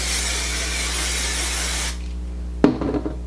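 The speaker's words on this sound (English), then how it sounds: "now I'll spray all of the curls." A steady aerosol hiss sprays for about two seconds, then stops abruptly, followed by a light click and faint handling sounds.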